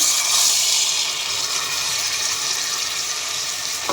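Hyacinth bean pods are washed in water, giving a steady, close splashing and trickling sound for a few seconds, with no talking.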